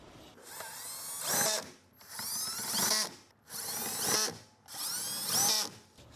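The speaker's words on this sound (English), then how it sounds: "So if you're gonna use a power tool like this, be very, very careful." Power tool driving a bolt while installing an amplifier kit in a 2024 Subaru Outback, four close bursts of whirring and ratcheting, each ramping up then stopping, separated by brief pauses.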